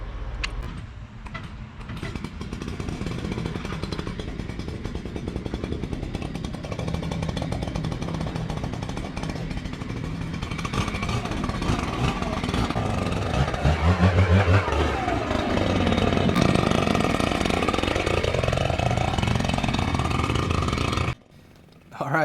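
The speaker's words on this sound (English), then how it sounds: "this is one of my favorite parts of the jobs, is actually using the blower" A gas-powered leaf blower runs at a residential rental property cleanup, a loud close engine roar that swells and shifts in pitch as it is swung around, cutting off abruptly at the end.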